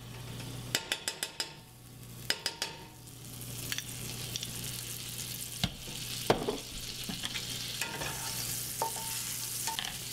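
Butter sizzles in a frying pan over medium heat, a continuous crackle broken by quick rattling clicks and clinks of a utensil against the pan, with a low hum underneath.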